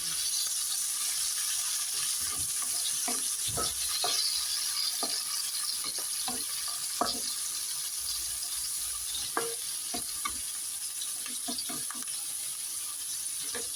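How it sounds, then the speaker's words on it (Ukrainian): Canned mushrooms fry in a pan for risotto, producing a continuous loud sizzle with scattered crackles and soft clinks of a utensil, and no talking. "Ну так, кстати, жариться трошки і потім будемо з рисом змішувати."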